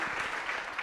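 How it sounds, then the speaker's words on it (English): Brief applause from a panel audience at a Star Wars storytelling Q&A, an even wash of many hands clapping at steady moderate volume throughout, with no voices. "that deserves a round of applause."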